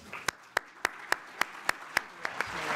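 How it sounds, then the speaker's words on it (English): A few people clap sparsely at a forest and landscapes forum plenary session for the panelists, about ten single sharp claps spaced evenly, thin and close, not a full crowd. "I want to just give a round of applause to our panelists"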